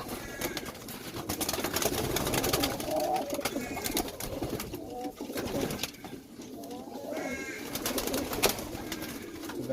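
Young pigeons coo softly and repeatedly close by while being given a pox vaccination, their low throaty calls overlapping amid handling noise and a faint voice.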